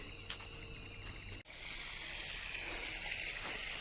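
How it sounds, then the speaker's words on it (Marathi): Water flows onto garlic plants in a field at night, a steady rushing trickle that picks up after a brief knock, with faint insect chirping at first. "लसणाला पाणी सोडले आता."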